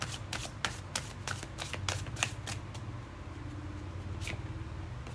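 Tarot cards shuffled and flipped over at a reading, giving a run of quick crisp riffling flicks in the first half followed by a few isolated snaps, close and moderately quiet with no talking.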